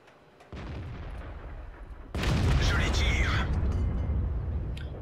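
A tank cannon fires in World of Tanks with a heavy, booming blast that jumps out of a steady engine rumble and rolls on as a loud, sustained roar.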